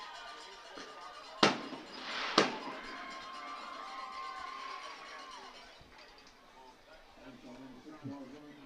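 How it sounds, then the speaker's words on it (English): Fireworks go off at a high school football playoff game, two sharp loud bangs about a second apart, followed by a crowd and stadium murmur, with a voice talking quietly underneath. "Well, I hope we brought enough fireworks."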